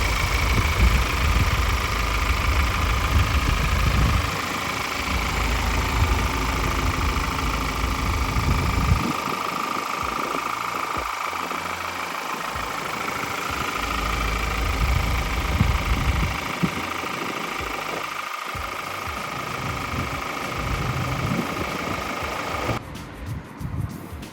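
Ford Ranger Limited automatic pickup engine idling, a steady close low rumble with a constant drone that holds for the full stretch, no one talking.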